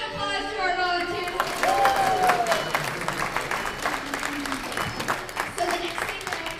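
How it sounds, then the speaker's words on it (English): An audience at a music technology teachers' conference session applauds the volunteers, with a steady wash of clapping that runs throughout alongside a brief whistle-like tone and some voices. "Round of applause to our volunteers."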